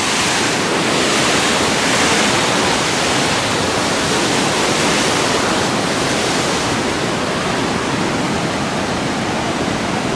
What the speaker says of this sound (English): I can't tell you how fast that is gushing.